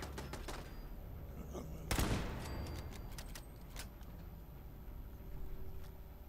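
Gunfire sounds in Fallout 4 at the Corvega factory, with a single sharp shot and scattered distant pops over low ambient rumble.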